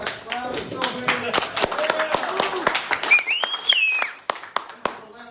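Scattered clapping and whooping from a crowd at a gun-rights group meeting in Oklahoma City, sharp hand claps and cheers mixed with nearby voices talking.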